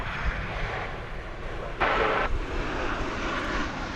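Airliner roaring on the runway during takeoff at DFW Airport, a steady broad engine rumble with a louder surge partway through, heard from a distance.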